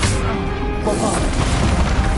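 Bombarda, the explosive spell from Hogwarts Legacy, goes off with a thick booming crash, followed by a swelling roar of rubble and rumble that stays loud and continuous to the end.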